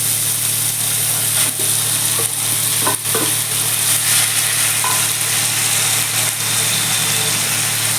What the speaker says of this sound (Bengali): এবার আমি মোচাটা মোচা সেদ্ধটা দিয়ে দিচ্ছি